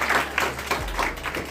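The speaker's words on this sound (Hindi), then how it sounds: "एक बार जोरदार तीनों के लिए ताली बजाएंगे।" An audience at a library annual celebration and award ceremony applauds, producing a dense, steady burst of close clapping.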